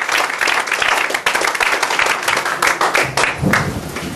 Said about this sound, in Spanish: Denle un aplauso y tome su asiento en esta tarde